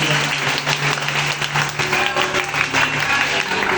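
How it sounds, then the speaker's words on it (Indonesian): A church congregation breaks into loud, sustained applause at a revival service, dense overlapping clapping from a large crowd, close and continuous throughout. "Boleh tepuk tangan dengan ramai."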